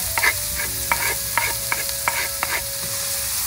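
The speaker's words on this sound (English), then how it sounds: "Let's put some oil in here. And this is what's so important about risotto. You put the onions in first." Onions fry in oil in a pan for risotto, sizzling steadily under about half a dozen rhythmic scraping stirs of a utensil, close and clear with no talking.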